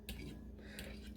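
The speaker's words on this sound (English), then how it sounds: "I guess you're kind of whisking it in a way" Eggs being whisked or beaten for French toast, a continuous low utensil-against-bowl clatter with brief brighter scraping strokes near the start and again just before the end.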